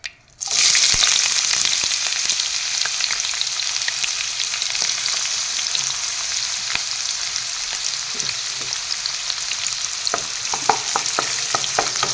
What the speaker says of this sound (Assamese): কেৰাহী গৰম হ'বলৈ দিছোঁ, তেলখিনিও গৰম হৈছে। ইয়াতে প্ৰথমতে পিঁয়াজখিনি দি লওঁ।